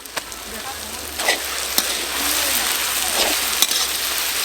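Onion with ginger paste and garlic paste frying in a pan, a loud continuous sizzle with occasional stirring scrapes.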